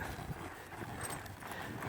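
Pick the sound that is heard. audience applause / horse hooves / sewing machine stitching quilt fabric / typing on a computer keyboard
horse hooves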